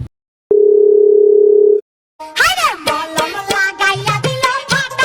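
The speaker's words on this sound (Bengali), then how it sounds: "আচ্ছা ঠিক আছে, আমি ফোন দিই।" A steady, loud telephone dial tone sounds alone for about a second before a call to the doctor, followed by a short gap and then busier, mixed sounds.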